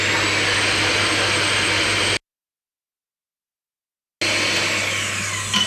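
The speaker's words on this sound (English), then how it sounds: "So I like to use an electric whisk." Electric whisk beating egg whites to stiff peaks, a steady loud motor whir that cuts out completely for two seconds and then resumes at the same even level.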